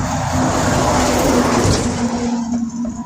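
A car passes close by on a road in a loud, broad whoosh that swells to a peak and then fades away, with a low engine hum beneath the tire and wind noise.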